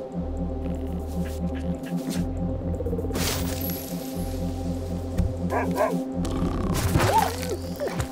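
A dog barks in the video game Overland, with sharp barks and yips rising over a loud, pulsing, throbbing hum that repeats in even blocks.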